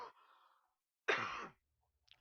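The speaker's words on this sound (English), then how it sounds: "wow, I got like a cough." A single sharp cough bursts out close and fairly loud after a soft stretch of talk, then quiet follows.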